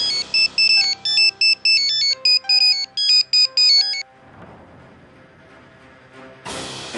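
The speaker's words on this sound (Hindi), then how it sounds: "मानव का फोन, ये मुझे क्यों फोन कर रहा है?" A phone ringtone plays a bright, repeating electronic melody in short loud bursts for several seconds, then stops, leaving quiet room noise before a new sound starts.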